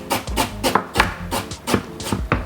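A knife chops fresh ginger into chunky pieces on a board, a steady run of close, firm thuds repeated about twice a second.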